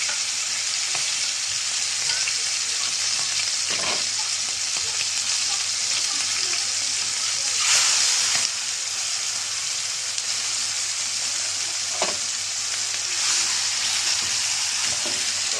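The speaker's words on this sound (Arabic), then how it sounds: "انا هنزل بالكبده، هحط شويه زيت خفيفه كده" Liver frying in a light layer of oil in a pan gives a steady, loud, continuous sizzle throughout, with brief swells and a few soft knocks of stirring, no voices.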